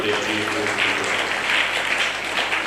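A church congregation applauding together, dense sustained clapping from many hands throughout, close and fairly loud, with voices mixed in.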